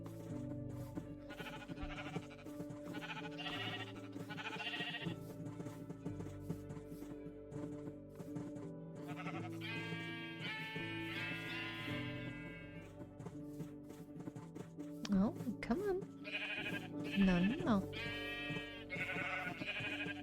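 Several sheep bleat repeatedly in a farm setting, with clear wavering calls near and loud, while a person speaks briefly over them.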